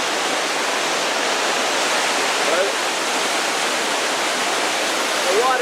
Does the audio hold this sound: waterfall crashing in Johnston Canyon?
yes